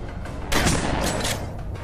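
A shotgun fires in the sci-fi shooter Dead Effect 2, a loud, close, roaring blast that swells mid-clip with a couple of trailing pulses over a dense game soundscape.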